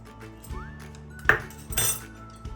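A spoon stirs jaljeera masala into a sweet jaggery sharbat in a glass, giving a few bright clinks and taps against the glass with a short swirling rattle, close and clear with no talking.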